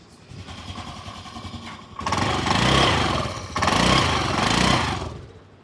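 A Honda Activa BS6 scooter engine, with about 32,000 km on it, idles with a putter, then revs up twice in long surges, buzzing loudly up close before settling back down, with noticeable gearbox noise.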